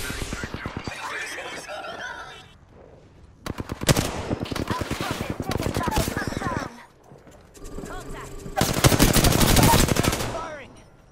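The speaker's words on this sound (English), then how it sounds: "Firing." Gunfire in Apex Legends, rapid automatic bursts in several long volleys separated by brief pauses, loud and close, with a hoof-like clatter mixed in.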